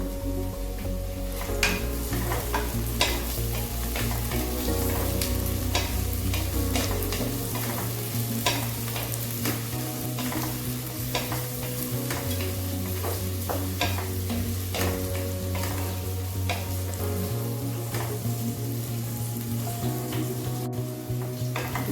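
Masala for a white mutton biryani sautés in a pot while being stirred, a loud steady sizzle punctuated by regular scraping strokes of a spoon against metal, with a low hum beneath.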